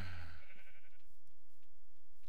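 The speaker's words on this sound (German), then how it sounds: "dann tun wir jetzt da kurz die Schafe scheren" Sheep bleating in the Minecraft video game, a single wavering bleat at the start followed by a few soft clicks and taps in near silence.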